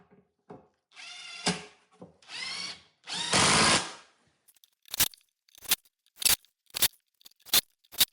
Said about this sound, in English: now it is time to screw the base on